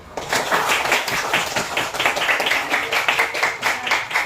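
A classroom of students claps hands together, a dense run of brisk overlapping claps lasting several seconds at steady loudness, with no voices over it.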